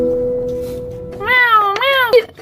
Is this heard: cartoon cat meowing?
yes